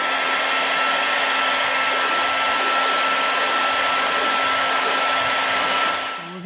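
A heat gun runs steadily to warm the adhesive on a windrestrictor bracket for a C7 Corvette, a continuous loud airy whine with a faint tonal hum, tapering off at the very end.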